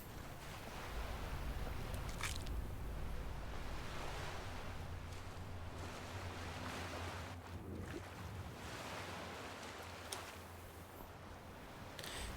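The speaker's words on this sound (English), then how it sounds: "even the waves are trying to push you away" Ocean waves from the video game Skyrim, a steady broadband wash of surf with wind noise that stays loud and continuous throughout, with no talk over it.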